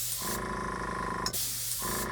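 A cheap Harbor Freight airbrush and compressor combo sprays in short bursts, a steady close hiss of air with a compressor hum underneath, cutting off briefly partway before resuming.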